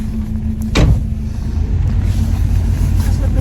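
Muffled car cabin ambience with a steady low hum and rumble, a brief bump or door-like thud near the start as someone settles in, then continuous engine-and-road drone.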